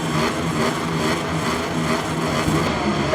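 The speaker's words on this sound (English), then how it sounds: "It's full throttle, it's lights out, and we're underway here in the Malaysian MotoGP race." MotoGP motorcycles roar off the Sepang grid at the start of the Malaysian Grand Prix, a dense, steady wall of high-revving engines blending together loudly and continuously.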